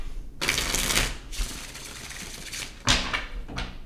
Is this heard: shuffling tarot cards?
yes